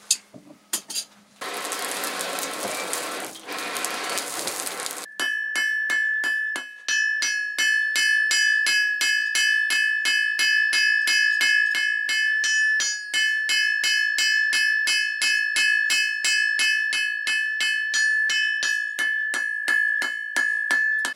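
A hammer strikes an anvil while a small harvest knife blade is drawn out at the forge, some blows landing beside the work, giving fast, even, bell-like ringing strikes that follow a short burst of harsh noise, loud and close.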